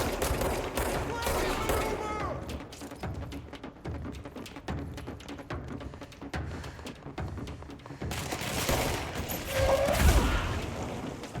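Gunfire in the video game Control, scattered shots and bursts crackling through a busy battle mix, with heavier flurries near the start and end and a voice talking over parts of it.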